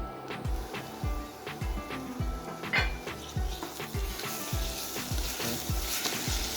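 Onions browning in a dry pan with no oil give off a soft, steady crackle and sizzle, close and fairly quiet, punctuated by regular stirring scrapes.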